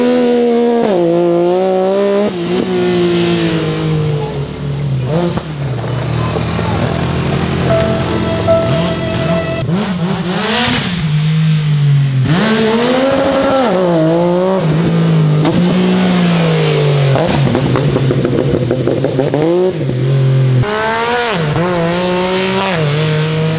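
Tuned Yamaha YXZ1000R side-by-side roaring loudly up close, its engine revving hard and then downshifting through the gears, pitch rising and dropping repeatedly with rattles and brief gear-change dips.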